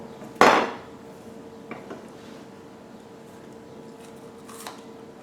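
A knife cuts a slice from a Korean melon with one sharp, close crunch near the start, followed by a few faint knocks against the cutting surface and then quiet.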